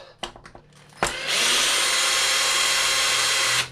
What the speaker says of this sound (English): Now I can go ahead and unbolt